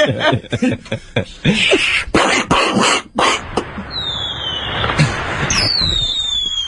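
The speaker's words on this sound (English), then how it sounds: "you get the same results from fireworks" Fireworks crackle and pop in rapid bursts, then whistling rockets shriek upward. Chuckles and laughter are heard among the bangs.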